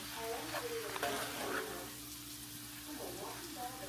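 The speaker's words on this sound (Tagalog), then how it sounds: "Sauteed spinach and garlic." Spinach and garlic sauté in a home kitchen pan, a soft continuous sizzle with stirring scrapes, fairly faint and close, while a voice talks over parts of it.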